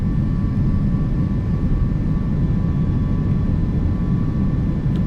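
Airliner jet engines roar steadily through a takeoff in Microsoft Flight Simulator 2024, a Delta flight from San Francisco, with a dense continuous rumble and faint tonal whine holding loud and even throughout.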